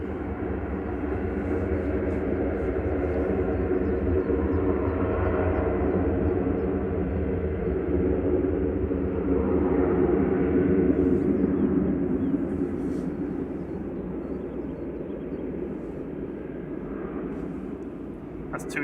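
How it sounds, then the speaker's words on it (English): TUI Boeing 737-800 jet climbing away on departure from Manchester Airport, bound for Palma de Mallorca, a steady loud broadband engine roar that swells slightly mid-way and holds throughout. "That's TUI Flight 2606 heading over to Palma de Mallorca, GTUKW. 737-800 departing there."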